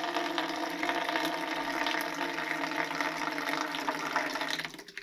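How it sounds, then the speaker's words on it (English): Water draining out through a siphon hose, a steady gurgling, rushing flow that runs continuously up close and tapers off at the end, with no voices. "And it drains all the water out."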